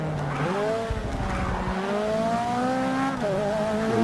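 A race car in the video game WTCC sliding sideways off the track at Sonoma, its engine whining and revving loudly with rising and falling pitch and tire scrub, continuous and close.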